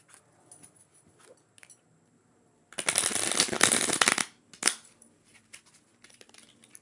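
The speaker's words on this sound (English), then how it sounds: "Do a quick little shuffle. I'm gonna do 3 shuffles." A deck of playing cards is shuffled by hand: one long rushing riffle burst in the middle, a short second flutter just after, and soft card handling taps before and after in a quiet room.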